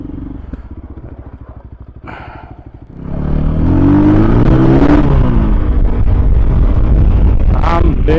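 A Voge 300 Rally motorcycle rides along, its engine ticking over steadily before a loud surge of acceleration that holds a strong, rising roar with wind rushing past the microphone.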